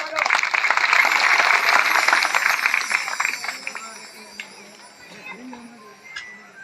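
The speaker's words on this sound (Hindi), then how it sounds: "जोरदार तालियों से स्वागत हो।" An audience gives loud applause to welcome honoured guests at a ceremony after a night religious discourse. The clapping is dense at first and fades over several seconds to scattered claps and low murmur.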